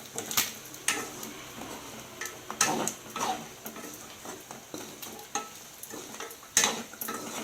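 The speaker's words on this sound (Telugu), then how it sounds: "కలదిప్పాలి మొత్తం ఇలా" Soft scraping and clinking of a spoon stirring mutton fry in a pan, in irregular strokes with faint sizzling underneath, no talking.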